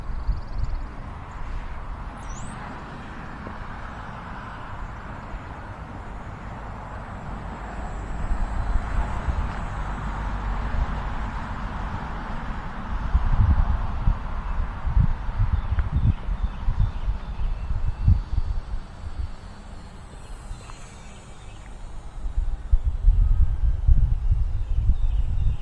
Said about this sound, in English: Big gust there.